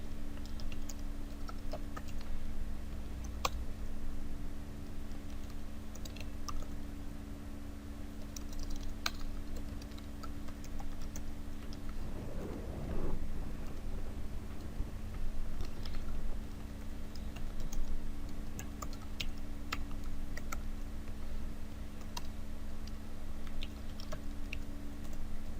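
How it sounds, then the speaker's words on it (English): Code being typed on a computer keyboard during a programming tutorial, a steady run of quick, light key clicks in uneven bursts over a constant low background hum, with no talking. "Let me just type this all out."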